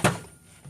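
A tea box holding tea bag containers knocked over indoors, one sharp close thunk followed by a fading rattle and a soft second bump.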